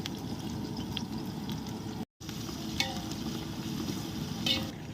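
Sliced onion and green chillies frying in hot oil, giving a steady, dense sizzle with a few faint clinks and no talking.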